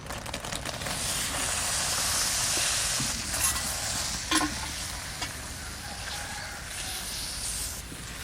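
Washed ripe jujubes go into a pan of cooking jaggery for a sweet-sour pickle, with a steady frying sizzle and hiss running throughout, broken by a few stirring scrapes and clinks, fairly close and continuous.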